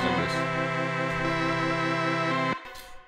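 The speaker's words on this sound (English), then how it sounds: "I feel like this hat could be a bit better here." A hi-hat sample in a music production session, processed with overdrive and a stereo imager, plays as a steady, bright, sustained tone for about two and a half seconds before cutting off abruptly. No one speaks.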